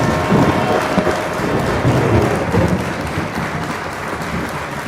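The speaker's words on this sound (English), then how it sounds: "Give a round of applause to Machine Games." A crowd applauds Machine Games after an Indiana Jones game showing at an Xbox Developer Direct, making a dense, steady wash of clapping that stays loud and even for about five seconds.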